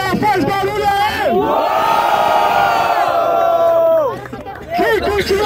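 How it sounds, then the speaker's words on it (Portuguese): A crowd at a Brazilian freestyle rap battle, second round, roars and whoops loudly for several seconds, with overlapping shouted voices rising together and then briefly dropping off. "Quem curtiu a rima de Lisboa, faz barulho aí"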